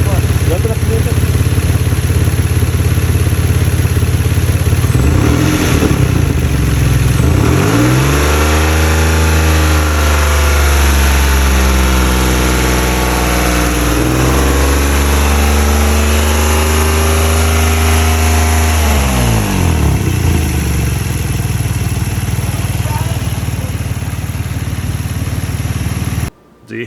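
A 2004 Infiniti i35 with 159,000 miles runs with its hood open, a loud steady engine drone with a metallic noise, rising and falling through two revs in the middle. A voice speaks over it at times.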